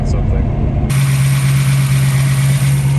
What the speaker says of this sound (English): It's idling a little high, but that's because we did a cam